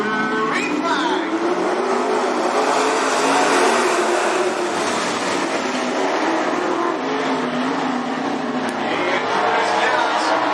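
Late model race cars roaring at the start of a race at Cottage Grove Speedway, a loud continuous engine drone with rising and falling pitch as the pack accelerates.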